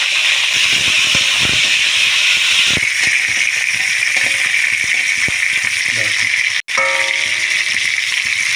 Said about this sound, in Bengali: কপিগুলো আমি লাল লাল করে ভাজতে দেবো।